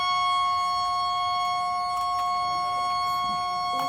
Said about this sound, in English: It's literally a siren.